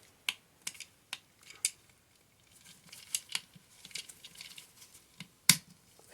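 Plastic parts of a Transformers Legacy United toy click into place as a series of sharp, close snaps and small handling rattles, scattered irregularly and with no talking.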